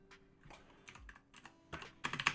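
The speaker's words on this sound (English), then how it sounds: "And that's me typing C twice." Computer keyboard typing during a programming session, with soft scattered keystrokes and clicks that become a quicker, louder cluster of taps at the end, close and quiet.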